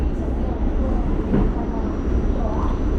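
A train runs through a railway station in Brooklyn, New York, with a loud, steady rumble and roar filling the scene and no clear break.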